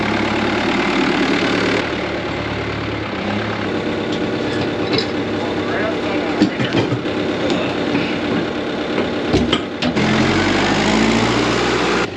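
A farm tractor engine idles steadily nearby on a vegetable farm, a continuous droning rumble with a few clanks and shifts in tone partway through, no talking.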